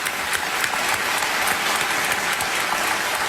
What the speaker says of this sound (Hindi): एक बार तालियों के साथ इनका स्वागत किया जाए